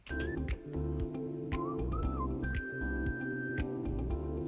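A whistled melody with short sliding phrases and a long held note rides over steady, busy background music, moderately loud and continuous.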